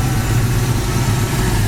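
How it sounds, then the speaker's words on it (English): A 1977 Pontiac Trans Am's 350 Pontiac V8 idles close by, a steady low rumble with an even, continuous throb and no talking. "It's powered by a great running 350 Pontiac engine."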